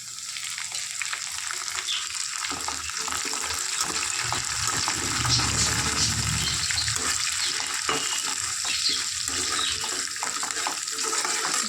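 Curry leaves frying in hot oil for a Guntur-style dried prawn and tomato curry, giving a steady, loud, close sizzle and crackle that runs unbroken throughout with no voices.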